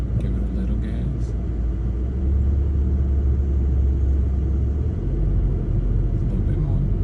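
A sports car driven by a 10-year-old rumbles with a low steady engine drone that swells slightly under light throttle, heard from inside the cabin.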